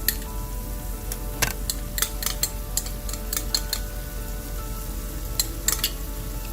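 Ginger garlic paste and mashed tomatoes sizzle steadily in a pan, a close, constant frying hiss broken by sharp clicks and scrapes of a utensil against the pan.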